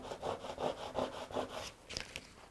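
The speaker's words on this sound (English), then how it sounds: "I come in here, I burnish it." Paper with dry adhesive is burnished by hand in a mixed media craft session, giving soft rhythmic rubbing strokes, about five close scraping passes followed by a few lighter scuffs.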